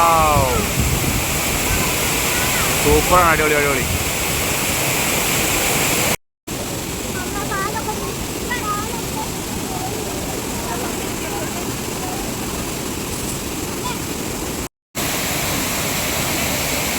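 Chillithodu waterfall at Adimali in Idukki, a loud, steady broadband rush of falling water that fills the scene throughout, with people talking excitedly over it.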